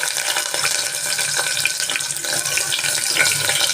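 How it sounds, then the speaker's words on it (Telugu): Onions dropped into hot oil for a mutton talakaya curry, giving a steady, loud broadband sizzle and hiss that runs continuously through the whole stretch with no talking. "ఇప్పుడు ఆనియన్స్ వేద్దాము."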